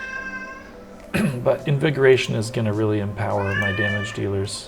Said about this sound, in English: So you can probably hear the cat in the background.